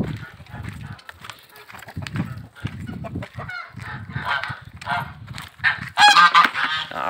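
Geese honk loudly and repeatedly in a farmyard, with chicken-like squawks rising near the end and a voice speaking briefly in the background.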